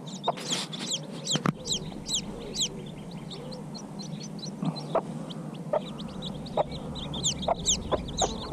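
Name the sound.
chicks from hatched hen eggs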